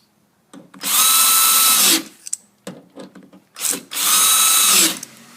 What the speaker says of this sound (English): Once you've fully torqued down all the screws for the new actuator